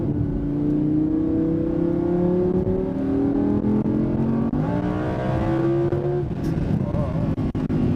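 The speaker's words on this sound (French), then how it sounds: "On se décale à gauche, on accélère progressivement." An Audi R8 V10 Plus accelerates progressively on a race circuit, its engine note climbing steadily through the revs and dropping at a gear change before rising again, heard from inside the car with a voice talking over it.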